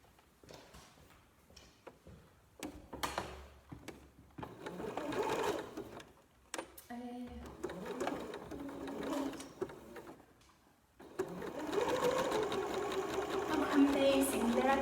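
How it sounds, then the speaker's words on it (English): A sewing machine backstitches fabric for an upcycled t-shirt bralette, running in short bursts and then a longer steady whir, close by, with people speaking in between. "put the foot down and do a back stitch"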